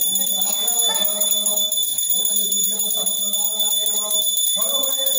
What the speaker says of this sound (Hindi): घंटी बजानी